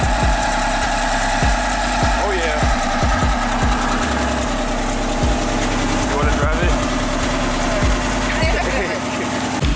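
A car engine starts and idles in race mode, giving a loud, rough rumble with irregular knocking pulses that runs throughout. People talk over the engine.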